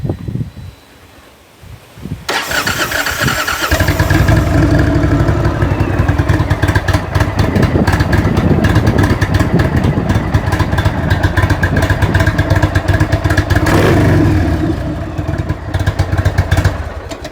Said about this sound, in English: Like I said, the guy did the cams as well, and just listen to this bike.